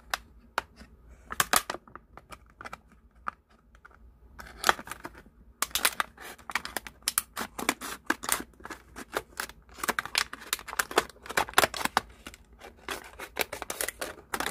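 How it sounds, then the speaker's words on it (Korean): Scissors snip through soft, tender succulent stems in a series of sharp, irregular clicks and crisp cuts, close and fairly quiet, with short pauses between bursts. "요거를 여기를 잘라 주시면 돼요. 이렇게 가위집으로."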